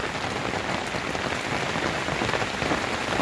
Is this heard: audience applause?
no